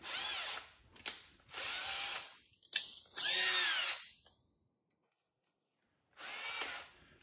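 A power drill drilling a small pilot hole on a 2018 Indian Chief Dark Horse motorcycle whirs in four short bursts separated by pauses, close and fairly loud, with the motor pitch sweeping as each burst starts and stops.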